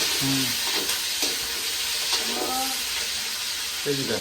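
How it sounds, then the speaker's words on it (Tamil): Chillies sauté in hot oil in a pan with a steady, soft sizzle and occasional stirring scrapes, while a voice briefly speaks in the background. "இதை எண்ணெயில் வதங்க விட்டுட்டு"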